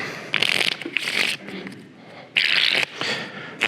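Playing cards being shuffled and riffled in quick bursts, crisp flapping rattles near the microphone with short pauses between.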